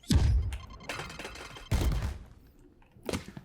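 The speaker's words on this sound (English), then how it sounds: "you simply just throw your nade through the window" A Raze grenade thrown through a window on the Ascent map in Valorant bursts in a few sharp, booming blasts with rattling debris, loud and close, separated by brief quieter gaps.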